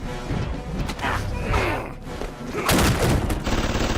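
AK rifle gunfire in an animated superhero fight, rapid bursts of shots with booms and crashes densely layered under a loud, busy soundtrack, with voices heard faintly.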